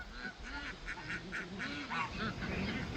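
Several ducks on a homestead quack and honk in repeated bursts, fairly close and loud, with a busy run of calls over roughly three seconds and no talking.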